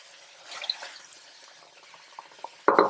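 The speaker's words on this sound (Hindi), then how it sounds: "तो इसमें आप तकरीबन 1 कप जितना पानी डाल लें।" About a cup of water poured into a cooking pan of chicken tikka gravy with chillies, a short splashing hiss near the end after quiet drips and stirring.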